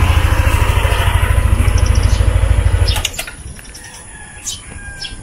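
A motorcycle engine idles to warm up at dawn, with a loud, close, rhythmic putter for about three seconds before it cuts off, leaving a quieter outdoor scene with faint bird calls.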